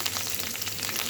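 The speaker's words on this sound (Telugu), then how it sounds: "అల్లం ముక్క అయితే కట్ చేసి పెట్టినట్టు ఫ్రై చేసుకోవాలి ఫ్రెండ్స్" Ginger pieces frying in hot oil in a home kitchen pan, giving a steady, close sizzle with fine crackling throughout and no voices.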